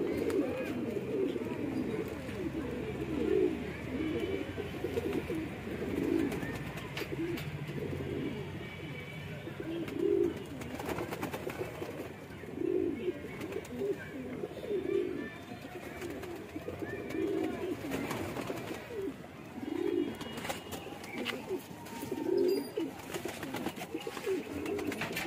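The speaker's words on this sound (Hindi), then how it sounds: "देखिए कबूतर मस्त कबूतर है" Magpie pigeons coo repeatedly in soft, rhythmic bursts against a busy outdoor background, with occasional faint voices and bird sounds nearby.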